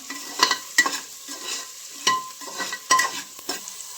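A spoon stirs and scrapes masala with green chillies roasting in a pan for mustard-greens saag, a series of distinct scraping strokes, about eight in four seconds, over a soft sizzle.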